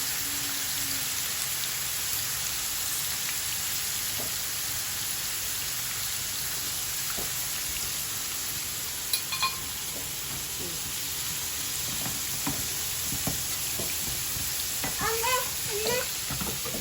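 Peeled tomatoes and garlic fry in a pan for a mixed fried-vegetable sauce, a steady soft sizzle with occasional utensil clinks and stirring scrapes, heard close and alone over a faint high whine.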